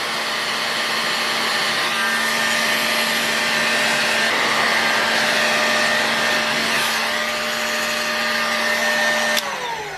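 A heat gun warms an engine crankcase to free a crankshaft bearing, giving a steady, close, uninterrupted fan-and-heater whine with a faint tone, cutting off abruptly just before the end.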